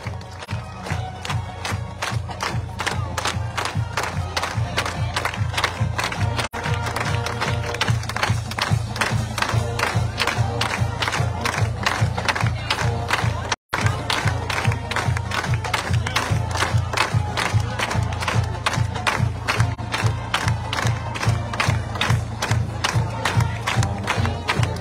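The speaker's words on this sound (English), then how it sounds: "clap along, and stand up and cheer with our Wolverines marching band" Stadium crowd at a Grove City College football pregame, a large mass of voices cheering and rhythmic clapping in a steady beat, loud and continuous with a momentary drop partway through.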